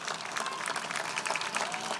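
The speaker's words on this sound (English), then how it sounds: "I would like all of you to stand and give them a round of applause" Audience applause at a live outdoor #IvoryCrush event in Times Square, New York: dense, steady clapping from a large crowd that holds at an even level throughout.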